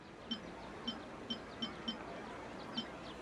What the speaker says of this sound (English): The beep is a prompt tone for Akasha operations.